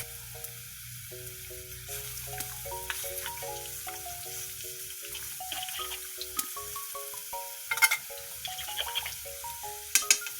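Water poured into a pan of sizzling Muscovy duck caldereta, a soft steady hiss and crackle with a few sharper spatters, heard under a quiet melodic music track.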